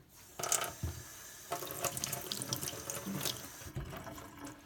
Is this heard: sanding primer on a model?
no